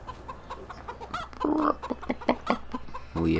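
Chickens cluck in Farming Simulator 15 near a chicken building on a farm map, a busy run of short clucks and squawks, fairly close, without talk.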